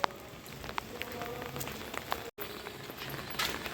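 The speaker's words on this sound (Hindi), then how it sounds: "तो थोड़ी देर के लिए हुई थी बारिश कम, फिर से लग गई है।" Heavy rain falls steadily at a riverside ghat in Haridwar, a dense, even hiss of drops with occasional louder patters and a brief dropout partway through, with no talking.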